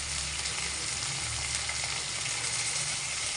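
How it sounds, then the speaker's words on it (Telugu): Ginger garlic paste and coriander leaves fry in a pan with a steady, dense sizzle that carries on evenly throughout, close and fairly loud, with no voices. "అల్లం వెల్లుల్లి పేస్ట్ యాడ్ చేసి బాగా ఫ్రై చేయాలి."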